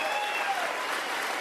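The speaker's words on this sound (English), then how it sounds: "Give him a round of applause." Brief burst of crowd applause at a political rally in Penticton, British Columbia, steady and fairly loud clapping over a short moment.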